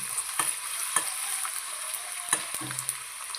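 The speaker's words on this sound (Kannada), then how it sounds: "ನನಗೆ 2 ಸಲಾಗಿ ಫ್ರೈ ಮಾಡಬೇಕಾಗ್ಬೋದು" Potatoes frying in hot oil in a pan over a medium gas flame, a steady close sizzle with a few sharp crackles and pops, no voices.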